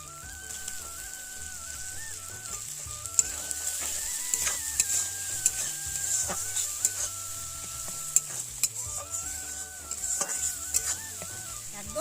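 Masala with chilli powder, salt and chopped tomato is stirred and fried in a pan, giving a steady sizzle with repeated scraping strokes of a spoon, close and moderately loud, with music playing underneath.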